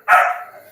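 A single close, loud dog bark, one short sharp yelp that trails off quickly with no voices.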